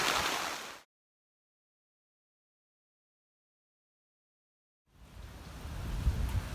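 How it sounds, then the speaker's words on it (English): Heavy rain on the Appalachian Trail amid tornado alerts hisses in a short burst, cuts to total silence for several seconds, then returns as a steady downpour with low rumbling. "It's raining really bad, so I'm just gonna hang out here for a while."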